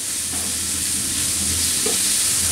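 Beef frying in a wok with white pepper powder for Thai beef sizzling, a loud and steady close sizzle with occasional stirring scrapes and no talk.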